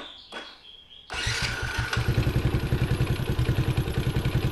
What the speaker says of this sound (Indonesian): ini mesinnya udah nyala